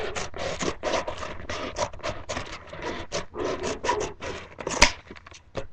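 A cardboard Nerf box cut along a marked line, a rapid run of close, rasping scrapes and snips with short pauses between strokes, no talking.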